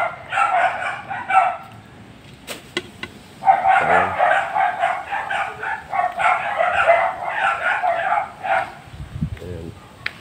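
Several village dogs bark and yip in short bursts close by near a papaya farm, with someone talking between and over the barking.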